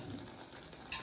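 Wheat-flour jeera biscuit puris frying in oil over low heat give off a faint, steady sizzle with a soft bubbling hiss, and nobody speaks over it.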